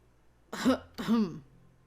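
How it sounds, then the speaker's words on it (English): Two short, throaty coughs from a video game character in quick succession, close and fairly soft, against a quiet background. "Rod coughs awkwardly."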